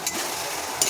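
Onions and tomatoes frying for butter paneer masala: a steady hissing sizzle in the pan with brief scraping stir sounds at the start and end, close and even.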